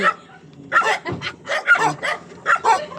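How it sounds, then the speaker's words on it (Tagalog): A dog barks and yips repeatedly in short, agitated bursts, fairly close, with some whimpering tones between barks. "Galit na yung aso."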